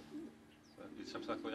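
Pigeons coo in a home pigeon loft, soft low murmuring that swells into several throaty calls in the second half, fairly close and unaccompanied by speech.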